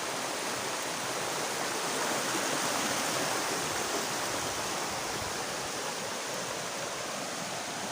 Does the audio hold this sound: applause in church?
no